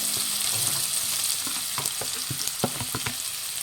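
Sliced onions fry with cardamom, star anise and cumin in a pan, a close steady sizzle broken by a run of sharp stirring scrapes and taps toward the end.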